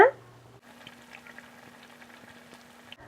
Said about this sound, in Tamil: இப்போ இது நல்லா கொதிக்கிட்டுங்க.